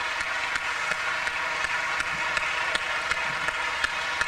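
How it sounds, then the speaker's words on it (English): Audience at a ballroom dance congress applauds the organisers, a continuous wash of many hands clapping, fairly distant and moderately quiet, with faint crisp claps standing out. "could we give a warm round of applause for the organisers?"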